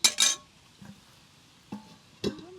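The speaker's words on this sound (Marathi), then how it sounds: "आपण आता झाकण ठेवूया" A metal lid clinks down onto a pan of egg bhurji cooking over a village wood-fired stove, two quick bright clanks at the start, then a softer knock and two more lid rattles spaced apart, with no voices.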